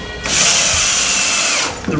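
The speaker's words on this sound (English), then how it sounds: "I've been putting one screw in and then drilling the next holes" A single close, loud burst of a power drill driving a screw into a wooden board runs steadily for about a second and a half before winding down.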